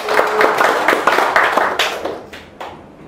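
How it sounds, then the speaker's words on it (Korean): Audience clapping in agreement at a talk, a brisk burst of many hands that is loud at first and then thins out and fades over the last second. "맞다고 생각하면 박수 한번 쳐보세요"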